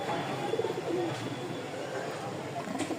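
Soft, low pigeon coos repeated a few times close by, over a noisy background with faint voices.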